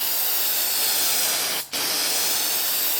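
Clear coat sprays onto a custom map in a loud continuous hiss that cuts out briefly once before resuming.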